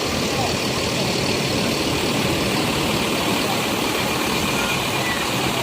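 Putra Remaja buses idle at a departure agent on Jalan Soekarno Hatta, a dense steady diesel rumble and broadband engine noise close by, with people talking faintly underneath.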